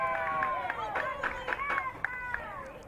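A crowd at a Hockey 5s match featuring Panama cheers and chants in sustained pitched vocal swells, with rhythmic claps cutting through about every third of a second, somewhat distant, under a commentator's voice.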